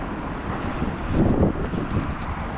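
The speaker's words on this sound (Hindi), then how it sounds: "हवा चल रही बहुत तेज रात से आज" Strong wind blows steadily and gusts against the microphone as a loud, broad roar that swells briefly in the middle; no one speaks.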